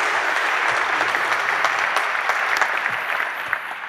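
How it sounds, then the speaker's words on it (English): A conference audience applauds to welcome a speaker at a performance.now() 2023 event: steady, even clapping from a large room, sustained throughout and slowly thinning toward the end. "let's make him certain of that by giving him a giant round of applause"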